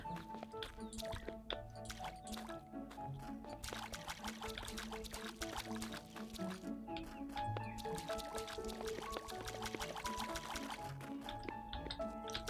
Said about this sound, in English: so therapeutic doing the watering. I missed a spot there.